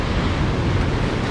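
Ocean waves at Point Lookout, Queensland, a steady broadband wash of surf mixed with wind buffeting the microphone, unbroken and fairly loud over a short stretch without voices.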